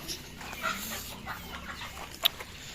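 Backyard chickens, including hens, cluck softly and sporadically at a distance, with one sharper short call near the end and no talking.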